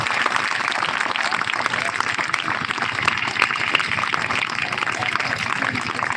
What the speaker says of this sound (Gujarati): તાળીઓ કરે છે વિદ્યાર્થી મિત્રો